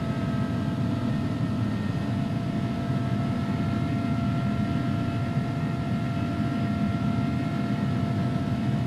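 Steady interior drone of an iniBuilds A300 airliner's jet engines at climb power in X-Plane 11, a constant broadband rumble with faint sustained tonal whines, unchanging throughout.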